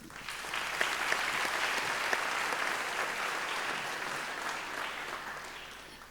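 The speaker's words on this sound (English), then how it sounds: "They do also deserve a round of applause." An audience at a university graduation ceremony applauds, sustained even clapping from a large indoor crowd at moderate distance, swelling briefly and then easing toward the end.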